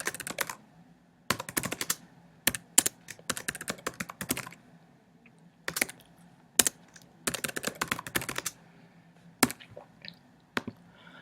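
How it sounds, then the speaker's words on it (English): Computer keyboard keys pressed in bursts of rapid typing clicks separated by short pauses, close and crisp, with no talk. "I am just hitting the tab key here."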